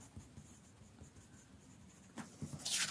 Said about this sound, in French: Et je note au crayon à papier les dimensions de la photo.